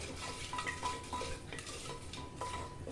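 Mixed vegetables fry in a pan with a pinch of turmeric, a steady close sizzle broken by repeated spoon scrapes and light metallic taps as they are stirred.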